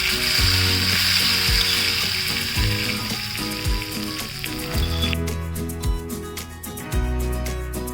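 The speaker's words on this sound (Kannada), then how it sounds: "ಕೊನೆಯದಾಗಿ ಸಾಸಿವೆ, ಉದ್ದಿನಬೇಳೆ, ಒಣಮೆಣಸು, ಇಂಗು, ಕರಿಬೇವು ಹಾಕಿದ್ದು ಒಗ್ಗರಣೆ." Mustard seeds, urad dal, dried chillies, asafoetida and curry leaves crackle in hot oil as a tempering poured over radish sambar. The sizzle is loud and steady, with sharp pops and ticks scattered through it.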